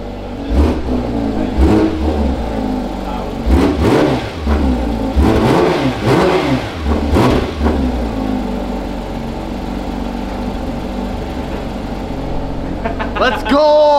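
A Porsche GT3 RS engine revs hard in a series of sharp, loud bursts close by, rising and falling repeatedly, with excited voices around it.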